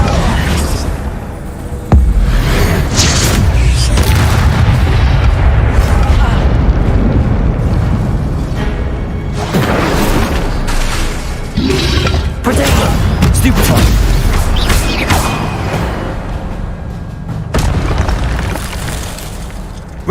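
Incendio fire spell blasts in the Hogwarts Legacy video game, loud booming bursts and crackling fire effects layered densely over continuous game music and noise for the full stretch.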